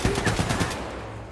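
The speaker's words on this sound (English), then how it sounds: "who the hell is shooting me there?" Short burst of rapid video game gunfire, several quick shots in a tight rhythm, moderately loud and fading within a second.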